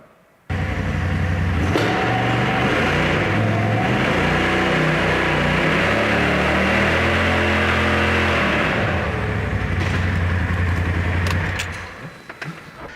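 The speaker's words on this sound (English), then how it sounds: "we're gonna go start this engine, hold the brake pedal, shift this thing to high and rev it up" A Polaris off-road vehicle engine revved hard with the brake pedal held and the transmission in high, a sudden loud sustained roar with rising and falling pitch that holds for about ten seconds before dropping off.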